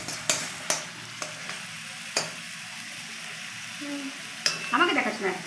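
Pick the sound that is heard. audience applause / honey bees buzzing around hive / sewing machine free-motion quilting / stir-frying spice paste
stir-frying spice paste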